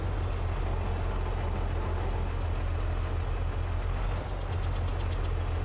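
A tractor engine in Farming Simulator 22 idles with a steady, low, rumbling drone and a faint knocking pulse. It runs continuously and evenly, with no voices.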